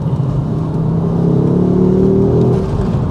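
Ford Focus RS engine revs up under load, a steady mid-pitched rising drone that swells and then eases off, close and loud with no talking.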